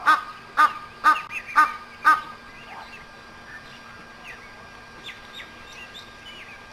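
Egyptian geese at a pan give a run of five loud, harsh honking calls in the first two seconds, followed by fainter scattered bird calls against a quiet background.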